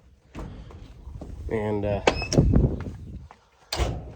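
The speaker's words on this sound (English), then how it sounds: "Open the door here." A tractor cab door is opened, giving a rattling latch and a clunk followed by a solid thunk, close up, while a person speaks briefly.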